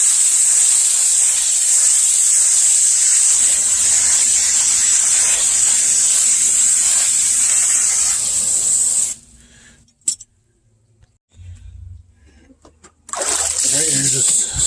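Loud continuous hose spray hissing against a paper pool filter cartridge, cutting off abruptly near the end, then a brief pause before the spray resumes.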